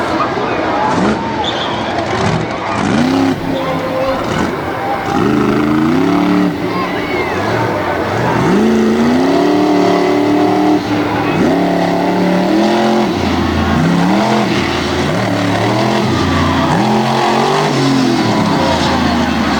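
A racing vehicle's engine revs hard and climbs in pitch as it opens up on a freestyle run down a straight-line course at a Hagerstown motorsport event, loud and close with repeated surges, under a commentator's voice.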